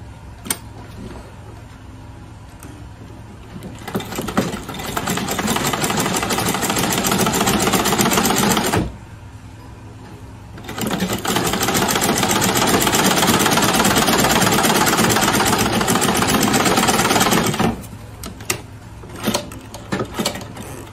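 A sewing machine stitches Ankara fabric for a face cap in two long continuous runs of steady mechanical whirring, separated by a short pause with lighter clicks, then a few brief clicks after the second run stops.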